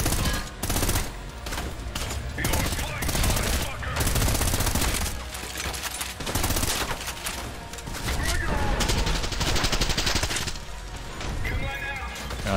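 Minigun fire in the shooter game Trepang2, dense and continuous rapid bursts that stay loud through most of the stretch, with crashes and impacts mixed in and a voice talking underneath.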